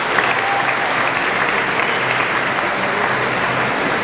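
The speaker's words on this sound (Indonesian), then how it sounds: "kita beri tepuk tangan Ketua STEPI yang agung" Audience applause in a hall at a university graduation ceremony, a full, steady wash of many people clapping together at constant loudness for the whole stretch, no speech over it.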